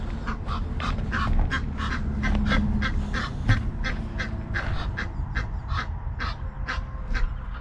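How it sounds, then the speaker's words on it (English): Ducks with their ducklings on the Moselle River in Germany give a long series of loud, evenly spaced honking quacks, close by, with no talk over them. "Oh, they got ducklings."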